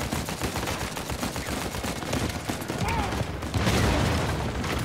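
Gunfire in the Uncharted 4 video game, dense continuous shooting and impacts filling the whole stretch, loud and busy with a faint voice underneath.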